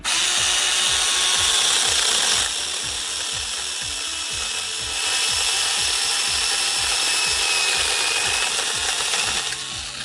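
A chainsaw trims overgrown brush in a backyard, its engine droning loudly and steadily while the chain rasps through wood in fast, regular strokes, with no talking.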